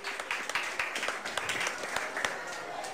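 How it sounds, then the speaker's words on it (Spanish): Faint, somewhat distant clapping from an audience applauding young people at a government science event, a scattered patter of hand claps, no talking. "un abrazo, un aplauso"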